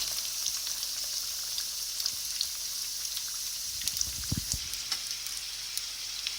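Çiğ börek, a Turkish filled fried pastry, frying in a pan until both sides brown, producing a steady, even hiss of hot oil throughout with a brief low bubbling burst midway and no voices.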